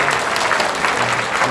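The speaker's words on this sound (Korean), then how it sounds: "한번 여러분들 위해서 한번 큰 격려의 박수 한번 해주세요" A burst of enthusiastic applause from a crowd at a seminary lecture, many hands clapping steadily and loudly throughout.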